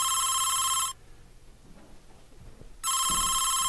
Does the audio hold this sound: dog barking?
no